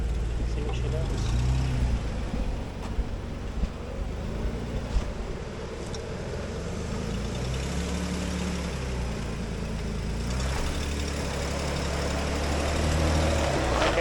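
An off-road vehicle on aired-down Mickey Thompson tires creeps forward on a climb, its engine rumbling low and steady with rising and falling revs, while people talk over it throughout.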